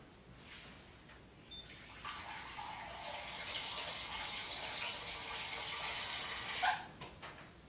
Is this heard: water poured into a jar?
yes